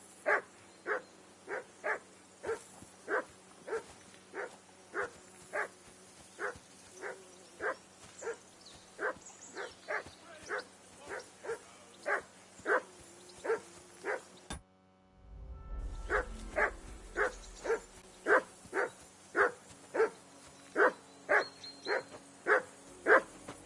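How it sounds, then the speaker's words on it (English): A dog barks in Kingdom Come: Deliverance 2, a steady run of evenly spaced, sharp barks close by. The barking breaks off briefly under a low rumble, then resumes at the same insistent pace. "Whistle at that mutt of yours to stop barking!"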